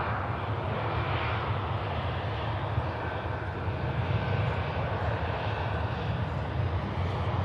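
Airliner on the Alicante flight touching down at Manchester Airport: a steady, distant, broadband roar of jet engines that holds evenly throughout, with no voices.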